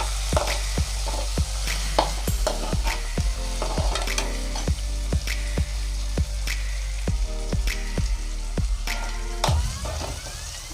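Ginger garlic paste sautéing with softened onions in a pan for pav bhaji: a constant close sizzle punctuated by sharp, regular clacks of a spatula stirring and tapping against the pan, with no talking.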